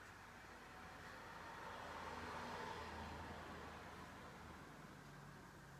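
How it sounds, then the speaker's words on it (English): Distant road traffic forms a faint, steady roar with a gentle swell in the middle and no distinct vehicles standing out. "So, although we can hear the traffic, Amanda cannot hear any of it."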